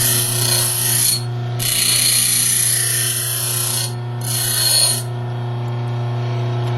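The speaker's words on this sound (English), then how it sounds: "you can grind off the blade" A blade is ground down on a tool to shape a lockpick blank, two loud rasping grinding passes over a steady motor hum, each lasting about a second and a half.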